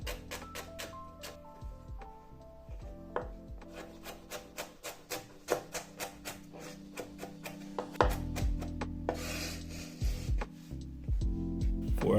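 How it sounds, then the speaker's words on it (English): A knife roughly chopping an inch of ginger on a board, a series of close, crisp irregular taps speeding into a quick run, with rubbing and scraping between cuts and no talk. "An inch of ginger, roughly chopped."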